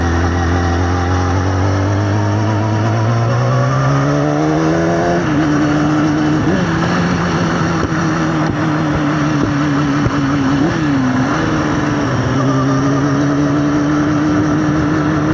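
A BMW E46 drift car engine drones steadily while driving, its pitch climbing over the first five seconds, then holding a rough, loud note with small wavers; the chain is slack, and no voices are heard.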